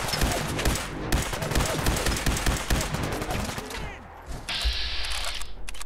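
Heavy automatic gunfire in Fallout 4 as a settlement provisioner comes under attack: close, dense volleys of rapid shots, a brief lull, then more shooting alongside a steady hiss, with occasional voices.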